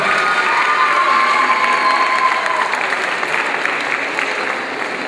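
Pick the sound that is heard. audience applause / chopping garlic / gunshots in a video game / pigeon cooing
audience applause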